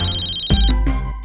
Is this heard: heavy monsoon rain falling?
no